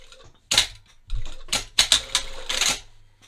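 A sewing machine stitches slippery track pants fabric in short, stop-start bursts of rapid mechanical clatter, close up, with brief quiet gaps between runs.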